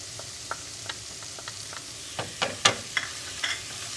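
Garlic hits a pan and sizzles softly for a Sicilian broccoli pasta casserole, a low frying hiss under a series of sharp utensil taps and scrapes that grow louder midway.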